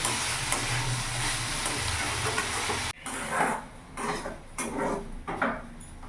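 Close, loud sizzling of banana stem and potato frying in a pan, which quiets after a few seconds into softer crackling with scattered scrapes of a utensil.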